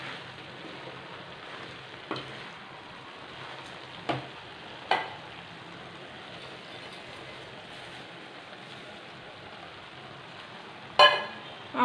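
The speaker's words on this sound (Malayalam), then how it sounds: "കുറച്ച് കുറച്ച് വീതം ചേർത്തിട്ട് നന്നായിട്ട് മിക്സ് ചെയ്തെടുക്കുക." Flattened rice is stirred into jaggery syrup in a pan, a soft continuous sizzling bed broken by occasional sharp scrapes and knocks of the spoon against the pan, with a louder clatter near the end.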